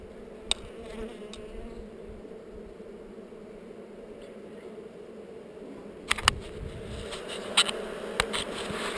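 Honey bees working heather outdoors, a low steady buzzing drone throughout, with a few sharp clicks and rustles toward the end.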